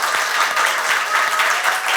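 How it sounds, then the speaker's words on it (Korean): A forum audience at a youth human-rights session gives a short round of applause, an even, moderately loud clatter of clapping lasting about two seconds with no talk. "박수 한번 부탁드릴까요?"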